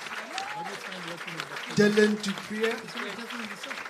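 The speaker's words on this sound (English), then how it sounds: "Just a round of applause for each and every one here" Applause at a Proteas women's cricket homecoming press conference, clapping rising briefly near the middle beneath someone speaking over a microphone through most of the clip.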